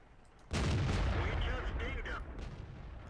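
Tank cannon fire in the World of Tanks video game, a sudden loud boom that swells into a sustained rumbling roar, heard close with faint game noise behind it.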